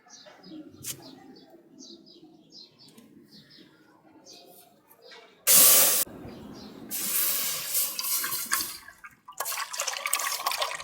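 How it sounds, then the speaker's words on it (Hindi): Curdled milk being poured into a cooking pot in a village kitchen while making khoya, heard as sudden loud splashing gushes and hissing spray between quieter stretches with faint background sounds. "ये फटा हुआ दूध है जिससे मैं अभी खोया बना रही हूँ। सही है? अब मैं इसको डाल रही हूँ"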